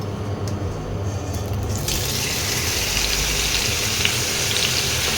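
Drained young jackfruit goes into hot oil in a pan, setting off a loud, steady sizzling hiss that swells after the first couple of seconds and keeps going without pause.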